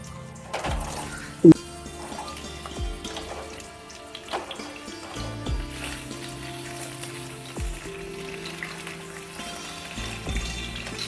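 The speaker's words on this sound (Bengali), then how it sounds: "এখন কেটে রাখা পটলগুলো দিয়ে দেবো।" Soft, steady sizzling of pointed gourd frying in hot oil with cinnamon, with a few light clinks of a utensil against the pan.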